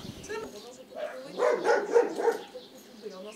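A small dog barks and yips in a short, excited burst near the shell-damaged shed and trailer of a rural home struck by a missile attack, fairly close and moderately loud.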